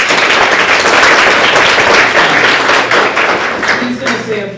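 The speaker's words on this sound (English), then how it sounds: "please give Shane Marr a round of applause" A crowd at a campus Safe Zone Coalition reception bursts into loud, sustained applause, many hands clapping close and dense before it starts to thin out, with some indistinct voices mixed in toward the end.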